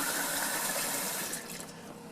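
Steady splashing stream of water poured from a container while a key lime pie is being made, loud and continuous, easing slightly near the end, with no talking.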